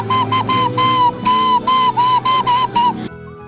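A traditional clay whistle made by a potter from Chernihiv region, blown in a series of about ten short, bright, loud tones in an uneven rhythm, heard alone and close.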